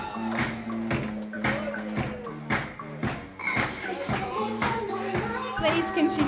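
Wedding guests applaud as a bridesmaid and groomsman are welcomed, an irregular crowd clapping with scattered sharp claps, shuffling and murmuring voices underneath.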